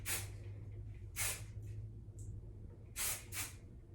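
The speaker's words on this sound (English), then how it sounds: "And I'm gonna spray in the direction of the hair." Hairspray from an aerosol can hissing onto styled bridal hair in short bursts, four or five close spray blasts with pauses between, over a low steady room hum.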